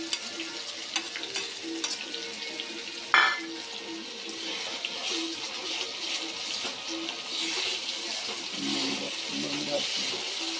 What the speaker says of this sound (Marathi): ही पेस्ट आपण छानशी भाजून घ्यायची लालसर होईपर्यंत आपण त्याला भाजून घ्यायचं